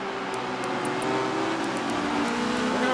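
Race cars in a racing video game, a steady whining engine drone at the start with faint high ticking over it, continuous and fairly loud.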